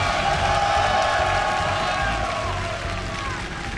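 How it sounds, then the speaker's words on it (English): A live crowd at an IEM Toronto 2014 StarCraft 2 semifinal cheers and applauds loudly in a large hall, a dense roar with whoops that eases slightly toward the end, while a commentator talks over it. "Awesome crowd here."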